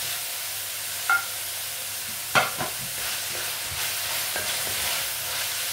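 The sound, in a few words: stirring chopped garlic frying in pan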